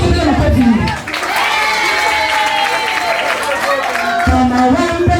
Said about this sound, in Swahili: Mpige makofi